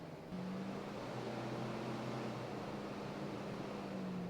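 A car's radiator cooling fan, forced on with a diagnostic tool, whirs on and keeps running as a steady, even hum with a low drone underneath, with no voices.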